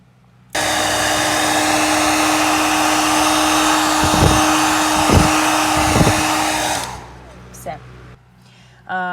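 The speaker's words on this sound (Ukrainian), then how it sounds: "Тепер потрібно взяти будівельний фен або звичайний для волосся і розтопити верхній маленький шар." A hair dryer switches on and blows with a loud, steady whir for several seconds, melting the top layer of a candle's wax in a coconut shell, with brief dips, then shuts off.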